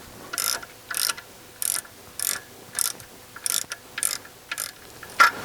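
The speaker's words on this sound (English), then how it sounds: "I'm just going to pull these down using a deep socket." A ratchet driving a deep socket to remove the cam caps on a BMW X3 3.0L engine clicks in about nine short, evenly spaced bursts of turns, close and clear with no talk.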